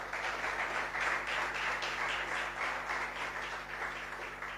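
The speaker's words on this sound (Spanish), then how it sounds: "Dale un fuerte aplauso al Señor." Applause from a church congregation during a service, a steady, fairly distant wash of many hands clapping that fills the whole stretch with no voices over it.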